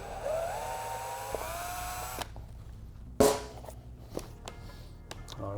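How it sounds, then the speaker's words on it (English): A power drill slowly bores a pilot hole for a frame slider on a 2017+ Yamaha R6, its motor whining and rising in pitch for about two seconds, then a few short, sharper bursts of drilling and thunks follow nearby. "and then slowly drill."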